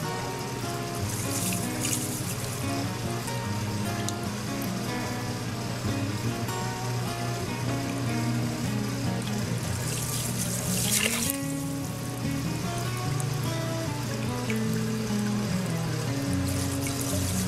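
Saltwater being mixed for an aquarium water change as salt dissolves, a steady close churn and trickle of water running through the whole stretch with a brief louder splash midway and no talking.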